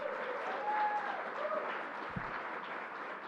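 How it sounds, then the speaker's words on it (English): A crowd at the opening of the LEGOLAND theme park applauds from a distance, a faint, even wash of clapping that holds steady throughout with a low thump partway through. "Let's give Stephanie Johnson a big round of applause"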